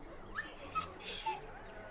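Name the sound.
dog whimpering in Dragon Age: Origins video game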